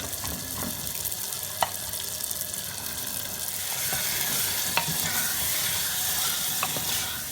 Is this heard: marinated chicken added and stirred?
yes